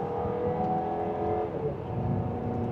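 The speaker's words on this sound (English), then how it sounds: "it definitely has a good bit of get up and go to it for this 4-cylinder turbo" A 2027 GMC Acadia Denali with a 4-cylinder turbo and all-wheel drive pulling hard from second gear in sport mode, heard from inside as a steady, sustained engine drone and road roar.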